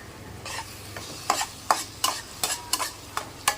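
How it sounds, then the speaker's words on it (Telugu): Mint and green chili paste stirred and fried in a pan, a soft sizzle under a series of about nine sharp spoon scrapes and clinks against the pan, in irregular rhythm, close and fairly quiet. "కొంచెం దాని పచ్చిదనం పోయేటట్టు ఒక 1 మినిట్ అలా ఇలా వేపేసుకుంటే సరిపోతుంది."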